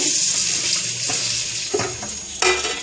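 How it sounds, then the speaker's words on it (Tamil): A hot tempering of fried spices is poured into a kuzhambu and stirred, giving a loud, close, steady sizzle with a few scraping stirs and spoon knocks, and no talking. "இப்போ இந்த குழம்புல கொட்டுறேன். இதை நல்லா கிளறி,"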